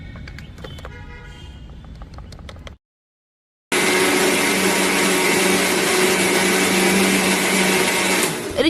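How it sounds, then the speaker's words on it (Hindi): An electric mixer grinder whirs loudly and steadily at close range while grinding a cooked masala paste in a kitchen. Light clattering comes first, then a brief silence, then the motor runs on without pause. "अब जल्दी से मैं इसे मिक्सी में ग्राइंड कर देती हूँ।"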